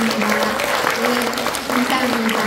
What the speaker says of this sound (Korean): 여러분들, 또 기획해 주신 우리 집행부들 모두를 위해서 큰 박수 부탁드립니다